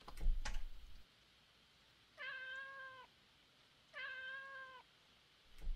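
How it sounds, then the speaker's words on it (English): A cat in the video game Alicemare gives two separate drawn-out meows a couple of seconds apart, clear and fairly close, after a brief thump at the start, with no talking. "That is a cat."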